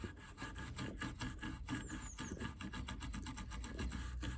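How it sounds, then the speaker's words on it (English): A brush works chemical stripper into the wood grain of an old desk, producing rapid rhythmic scrubbing strokes, a close, faint, raspy back-and-forth with no voices. "I'm just gonna go in with a brush just to make sure that I actually get the front stripped"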